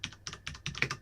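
Quick bursts of keystrokes on a computer keyboard, about five short clusters of clicks in a second, heard close and clear.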